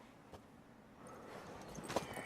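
A mare's hooves clip-clop in The Witcher: Wild Hunt, faint and soft over a steady low ambient bed, with a couple of slightly clearer hoof knocks near the end.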